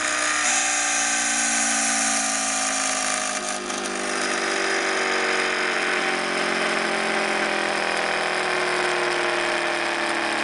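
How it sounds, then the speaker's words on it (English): A two-coil experimental motor spins down after its power is cut, a steady loud whine with layered tones that slowly slide lower in pitch over about ten seconds, without any talking. "I'll show you the spin down here. Turn off the power."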